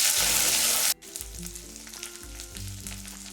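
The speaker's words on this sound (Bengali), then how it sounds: "এরপর দিয়ে দিচ্ছি রসুন বাটা এক টুকরো আদা বাটা আর তিন থেকে চারটা কাঁচা লঙ্কা বাটা সেগুলো তেলের মধ্যে ভালো করে ফ্রাই করে নেব" Garlic, ginger and green chilli paste frying in oil: a loud hiss that suddenly drops to a softer, steady sizzle, with low thumps and scraping of a spoon in the pan.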